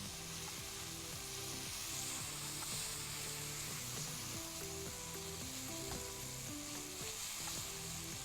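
Masala frying in a little oil in a pan while tomatoes are mashed, a loud continuous sizzle with stirring scrapes, close and steady throughout, no talk.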